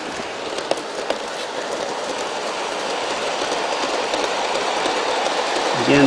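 An Aristo RS3 model train with BB motorblocks, pulling covered hoppers, rumbles steadily across a viaduct, giving a loud continuous rolling roar with faint clicking from the rails and no voices.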